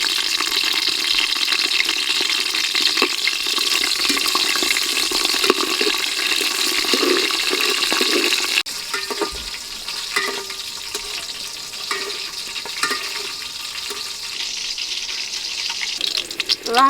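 Green and dried chillies fry in hot oil for a potato curry, giving a loud, steady hiss that softens partway through, with faint stirring knocks scattered throughout.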